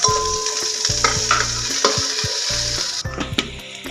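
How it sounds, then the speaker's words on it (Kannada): Onions fry in hot oil with mustard seeds for a jackfruit sambar, a steady close sizzle broken by repeated stirring scrapes of a spatula in the pan. "ನೋಡಿ, ಈರುಳ್ಳಿ ಸ್ವಲ್ಪ ಫ್ರೈ ಆಗಿದೆ."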